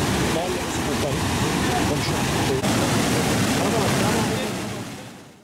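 Overflowing creek in Rize after heavy rain, a loud, dense rushing roar of floodwater, constant and close, fading out at the end.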